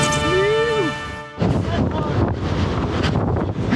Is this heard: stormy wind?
yes